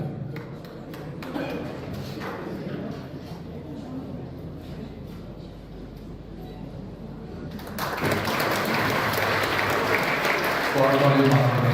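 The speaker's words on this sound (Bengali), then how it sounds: "করতালির মাধ্যমে" Audience applause at an International Women's Day event as a guest is honoured, clapping swelling from scattered to full and steady after a few seconds of indoor chatter and speech.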